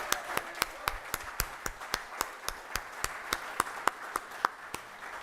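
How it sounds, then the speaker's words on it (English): Sparse, rhythmic clapping from an audience at an awards event for a media crew, individual claps distinct and evenly spaced over a quiet room background. "Let's have a round of applause for them."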